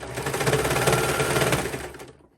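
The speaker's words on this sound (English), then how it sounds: "Continue serging it on." Serger sewing machine running steadily while stitching a wrist cuff onto a sleeve, a continuous close, loud mechanical whir with rapid needle chatter that winds down and stops at the end.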